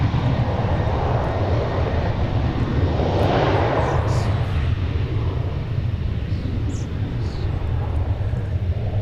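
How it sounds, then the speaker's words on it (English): A UPS Boeing 757 rolls out at DFW Airport, its jet engines giving a loud, steady roar that holds for several seconds, with faint faraway sounds scattered above it. "There's another UPS 757 that's just now rolling out"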